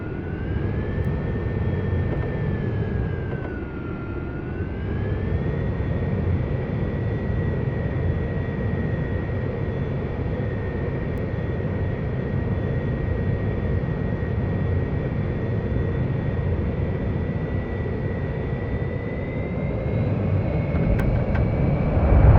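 Swedish AJS37 Viggen jet roaring on full afterburner for a takeoff roll in the DCS combat flight simulator, a steady loud broadband rumble with a whining tone that dips briefly then holds throughout.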